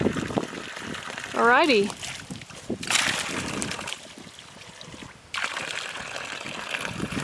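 Ice cold spring water trickles and splashes as it is poured into a gourd in a garden, a short liquid pour heard close by while people talk over it.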